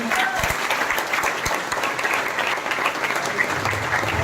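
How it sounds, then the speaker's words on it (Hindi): An audience at a career talk claps loudly to welcome a speaker, a dense, sustained burst of applause throughout with occasional sharper claps and faint voices beneath. "सर का जोरदार तालियों से फिर से एक बार स्वागत करें"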